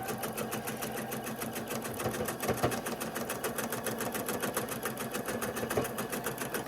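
Sewing machine stitching a straight seam on a quilt block, a steady rapid needle clatter running continuously and close throughout.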